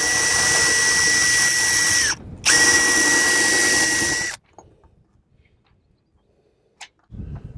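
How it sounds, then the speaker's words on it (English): A power drill with a 6 mm bit bores into an aluminum sailboat mast for step screws outdoors in wind: a loud, steady whine with a brief dip near the middle, then it stops into near-silence broken by a faint click. "I'm not going to have room to drill this with this cap shroud in the way."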